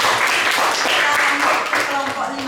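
A classroom of students claps for a presenting group, a steady patter of applause filling the short stretch with a teacher's voice speaking over it.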